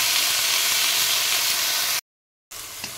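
Wet kudri (ivy gourd) greens, lifted straight from water, hit a hot empty kadai with a loud, steady sizzle and hiss. The sound cuts out abruptly for half a second, then resumes more quietly.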